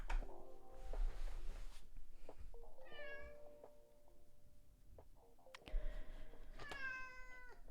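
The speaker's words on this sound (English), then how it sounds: "Can you hear her meow through the mic, or is it too far away?" A pet cat meows indoors in two drawn-out, rising calls, moderately close over a low steady room hum, with no talking.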